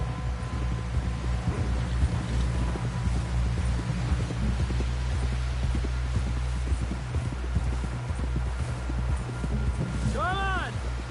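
Horse hooves clip-clop in a video game, a steady rhythmic beat of hoofsteps over a low hum and wind-like ambience, continuing throughout at moderate volume.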